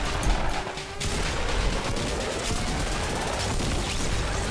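Gunfire in a Fortnite duo match, rapid loud bursts of shots in dense sustained volleys for several seconds, with no talk over them.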